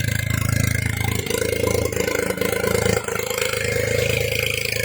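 A Perodua Kancil turbo engine, just rebuilt after an overhaul, runs steadily at a close, loud, even idle for the whole stretch, with a few small dips in its drone.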